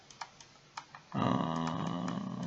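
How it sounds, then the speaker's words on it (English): Playing cards shuffled in the Dominion online card game: a few faint ticks, then a steady, fairly loud riffling rush lasting about a second and a half. "Shuffles deck"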